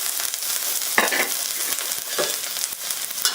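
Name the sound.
stir frying ginger and garlic in cooking oil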